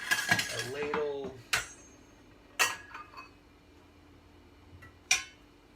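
A metal ladle clinks against a big bowl while mussels are being served, giving several sharp, separate clinks spaced over a few seconds, with a brief murmur of voice near the start.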